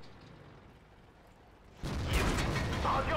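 A tank shell hit lands in World of Tanks: after a quiet engine hum, a sudden loud, close booming impact erupts and leaves a dense roaring rumble.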